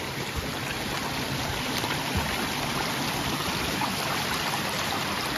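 Creek water runs steadily in a continuous broadband rush, close by and fairly loud, with no voices.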